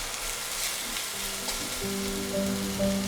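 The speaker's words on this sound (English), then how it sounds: "in the same pan that we fried the chilies, or I should say smoked us out, in goes the onion." Onion frying in a pan used earlier for chilies while making beef birria, a steady dense sizzle throughout with faint stirring scrapes and a few tonal clinks toward the end.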